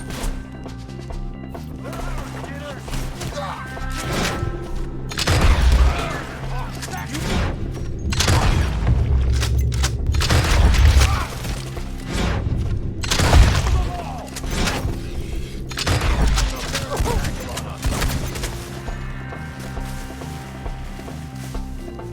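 Gunfire rattles through a shootout in Red Dead Redemption 2 against enemies perched up in trees, with repeated loud cracks and booms over a steady musical bed and occasional voices across the fight.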